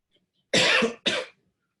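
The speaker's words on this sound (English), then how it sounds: "So I'll be coughing throughout here." Two coughs close to the mic, the first longer and the second shorter, with silence around them.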